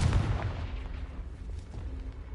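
A Confringo fire blast spell exploding in the Hogwarts Legacy video game: a single deep booming burst at the start that decays into a fading rumble, heard alone.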